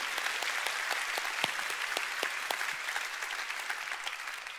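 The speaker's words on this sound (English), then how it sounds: "Let's give the Lord a big hand." Steady audience applause fills a church during a sermon, dense overlapping claps holding at an even level throughout with no speech over it.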